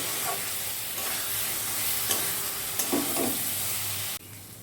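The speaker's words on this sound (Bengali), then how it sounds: "এবার আমি সব কিছু একসঙ্গে কষাতে থাকবো 4 থেকে 5 মিনিট" Spices with turmeric and salt sautéing together in a pan, a loud continuous sizzle with a few stirring scrapes, cutting off abruptly near the end.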